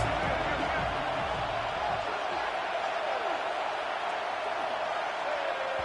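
Stadium crowd noise in the College Football 26 video game swells into a broad, steady roar of cheering that fills the background while a commentator talks over it.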